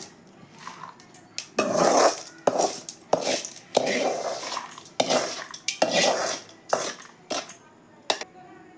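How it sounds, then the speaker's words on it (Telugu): Mixer grinder jars set down in a home kitchen while stuffed brinjal fry is being made, giving a run of sharp, close clattering knocks and clinks in irregular bursts with short pauses between. "మిక్సీ గిన్నెలు వేస్తున్నాను"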